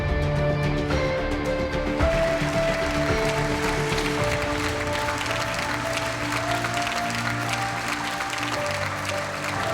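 Sustained audience applause for a farmer receiving an experimental-farmer award at a ceremony, a dense steady roar of many hands clapping that runs unbroken throughout, with music or tones faintly underneath.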